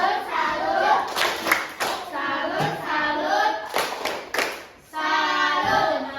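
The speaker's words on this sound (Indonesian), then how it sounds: "Tepuk salut." A classroom of students performs a rhythmic salute clap in short patterned bursts of hand claps and slaps, punctuated by brief group shouts, with gaps between the phrases.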